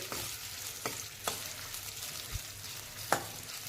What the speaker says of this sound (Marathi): आपल्याला जो हा कांदा आहे तो आपल्याला लालसर रंगावर तळून घ्यायचा आहे